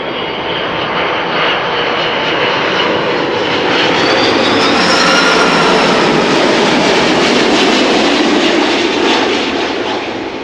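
A 12-year-old airliner lands at Amsterdam Schiphol Airport, its loud jet roar swelling as it passes close overhead and then easing off, with no voices.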